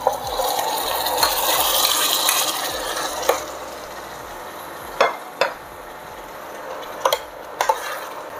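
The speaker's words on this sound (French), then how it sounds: "on vient ajouter dans nos oignons et notre ail qui ont sué le cœur de nos tomates avec le jus" Tomato pulp and juice poured onto sweated onions and garlic in a pan, a loud wet splash and sizzle up front settling into steady frying, punctuated by several sharp utensil knocks and scrapes.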